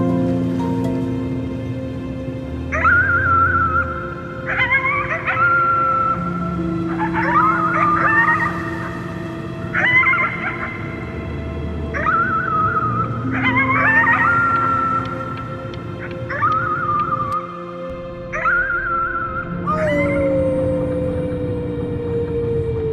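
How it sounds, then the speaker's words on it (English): A drawn-out howl at the moon in the game Before Your Eyes rises and falls in repeated wavering cries across the whole stretch, loud and close over a soft musical backing. "You howled at the moon, at the top of your lungs."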